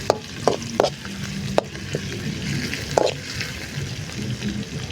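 Pepper chicken sautés outdoors in a large village-kitchen pan, a steady frying sizzle underneath a few sharp knocks and scrapes of a spoon against the metal, close and fairly loud, no talking.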